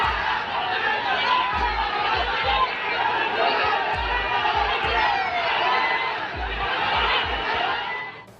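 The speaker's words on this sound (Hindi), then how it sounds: "भीड़ इतनी ज्यादा थी कि उसे काबू करने के लिए पुलिस को लाठी चार्ज करना पड़ा" A large crowd of political party workers packed at a temple produces a dense, continuous roar of chatter and shouting, with rhythmic thumping beats pulsing underneath.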